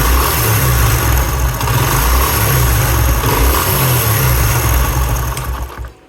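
A motorcycle engine revved to raise RPM during an ignition timing check roars loud and close, holding a dense, steady drone for about six seconds before dropping away at the end.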